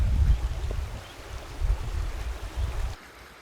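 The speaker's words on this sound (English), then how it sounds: "you can hear the water better" Creek water rushes and burbles steadily with a low rumble at Yellow River State Forest, Iowa, then drops to a quieter hiss near the end.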